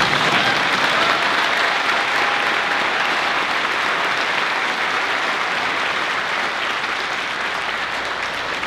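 Sustained audience applause fills a graduation ceremony at the Marine Corps University academic awards, a dense, steady wash of many hands clapping at even loudness throughout, with no talk over it.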